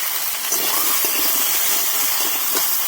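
Potatoes and pumpkin bori fry in a pan with a loud, dense, continuous sizzle and hiss, close and steady throughout.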